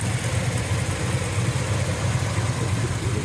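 A 1970 Chevelle SS with its original rebuilt LS5 454 V8 idles with a lumpy, loping rumble through headers and Flowmaster exhaust, steady and close for the whole stretch with no talking.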